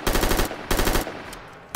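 Minecraft machine gun with a 100-round magazine fires in two rapid bursts of loud, close, evenly spaced shots, with a short tail of echo after each.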